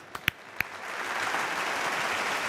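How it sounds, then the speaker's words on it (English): A stadium crowd at an FC Barcelona vs Bayern Munich Champions League match applauds a substitution; a few sharp, close claps come first, then a broad, swelling wash of applause and crowd noise fills the rest. "Round of applause for Fermin and Frankie de Jong, guys."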